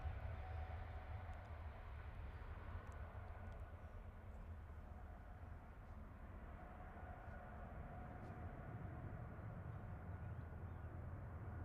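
An aircraft rolls along the runway at Manchester Airport at night, a faint, distant, steady rumbling roar with a broad hiss that holds evenly throughout, with no voices.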